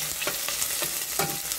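Chili peppers sauté in hot oil with a dense, continuous crackling sizzle, close and fairly loud, with soft rhythmic stirring strokes and no talking.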